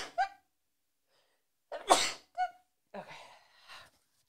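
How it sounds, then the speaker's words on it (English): A single loud sneeze bursts out after a quiet stretch, with short breathy vocal sounds before and after it. "And I have to sneeze."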